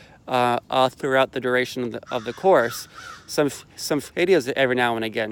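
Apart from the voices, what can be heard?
birds calling in the morning in Florida, likely crows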